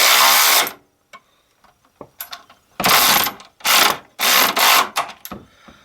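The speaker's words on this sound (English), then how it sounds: "let's try this with a power tool." A power tool works on a sway bar bracket bolt of a 2009 Subaru Forester in several loud ratcheting bursts, separated by short pauses and light clicks of metal.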